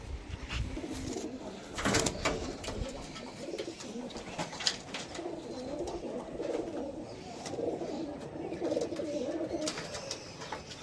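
Pakistani high-flying pigeons coo in a loft in Krishnanagar, a steady low murmur of overlapping calls with scattered flutters and knocks, moderately close throughout.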